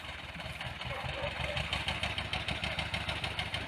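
A tractor engine chugs steadily in a field during potato planting, a mid-distance, rhythmic idling rumble that stays fairly constant throughout.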